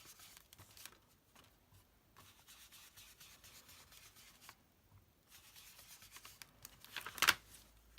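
Cardstock edges for a Valentine card are distressed with quiet, close scraping and rubbing strokes in short irregular bursts, faint overall, with one sharper scratch near the end.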